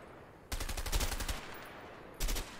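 Gunfire in the video game A Way Out: a loud, rapid burst of automatic shots lasting about a second, then a brief pause and a second, shorter burst, with no talk over it.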